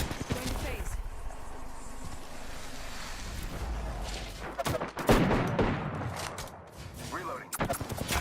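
Apex Legends gunfire, with bursts of rapid shots and impacts amid busy game sound, loudest around the middle, while a voice talks over it.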